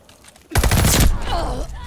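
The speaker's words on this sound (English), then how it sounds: "Oh yeah, shotguns." Video game shotgun fire, a sudden loud blast that cuts in after a quiet start, with rattling echoes and a faint voice trailing behind it.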